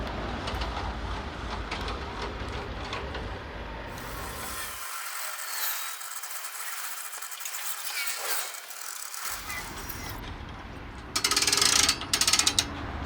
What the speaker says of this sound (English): first thing you want to do is let your mast down